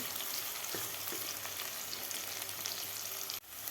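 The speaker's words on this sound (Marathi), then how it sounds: "आता व्यवस्थित आपल्याला कांदा परतून घ्यायचा आहे." Onions sautéing in a pan for Maharashtrian green pea rice, a dense continuous close sizzle with a couple of light stirring knocks, cut off abruptly near the end.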